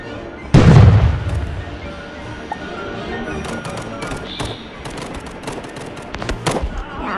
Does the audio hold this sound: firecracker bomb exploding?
yes